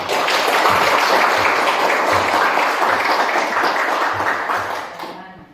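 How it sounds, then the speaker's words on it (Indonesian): Audience at a presentation session applauding, a dense, steady wash of clapping that holds strong for several seconds and then fades out. "Beri tepuk tangan dulu."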